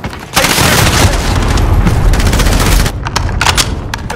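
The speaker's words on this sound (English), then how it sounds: "Enemy cruise missile incoming." Incoming enemy cruise missile striking in a video game, a loud sustained boom and rumble with crackling gunfire-like bursts layered over it for about two and a half seconds, then tailing into scattered pops.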